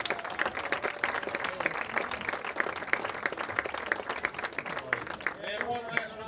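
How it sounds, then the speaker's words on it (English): A crowd at a high school football game applauds senior cross-country runners, a steady wash of clapping from many hands that holds for several seconds, with a voice on the public address in the background. "Round of applause for our boys senior cross-country runners."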